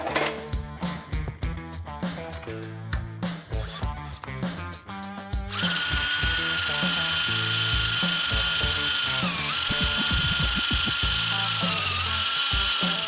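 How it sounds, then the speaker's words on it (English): A 2-inch-per-foot reamer cuts into an aftermarket steel drop spindle, first as a series of rapid stuttering bursts, then a loud continuous high whine with slight pitch dips, close and without talking. "The reamer that we're using is from Summit Racing as well. This is a 2-inch per foot reamer"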